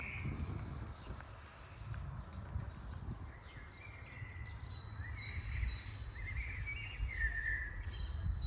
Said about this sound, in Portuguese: Os passarinhos todos felizes a cantar.